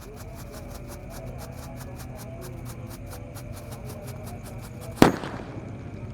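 A steady sputtering hiss of a red Thor Happy Flower ground-spinner firework runs throughout, then one sharp, loud bang cracks near the end and quickly fades.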